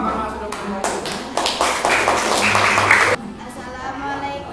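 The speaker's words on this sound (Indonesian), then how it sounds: "Ayo beri tepuk tangan ke kelompok kelima" Classroom clapping for the fifth student group, a burst of many hands applauding over about three seconds, fairly loud, then dropping off to quieter room noise with voices in the background.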